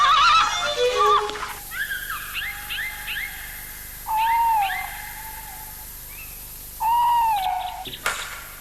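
An owl hooting and screeching nearby in a quiet château setting: several drawn-out, wavering calls with harmonic overtones, some rising and falling like a whinny, separated by short pauses, with a few softer sounds at the start.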